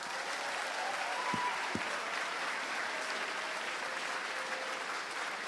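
Steady applause fills the room at a King's College small house music competition, a continuous even clatter of many hands sustained throughout at moderate volume.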